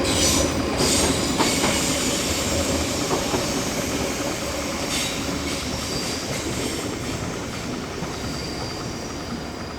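A train in Amsterdam rolls past close by with a continuous rumble, rattling wheels and faint metallic squeals, steady throughout.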